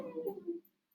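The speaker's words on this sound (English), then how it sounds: "I'm so sorry, that's my dog." A pet dog whimpers indoors in one brief, faint, high whine that trails off into quiet.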